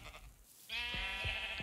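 Sheep on a farm in a video game give a sustained, nasal bleat that starts suddenly and holds steady, close and clear, with faint thumps underneath.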